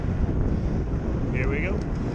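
Headwind buffeting a microphone during a bike ride on a trail, a loud continuous low roar of wind noise throughout, with a faint voice briefly in the background.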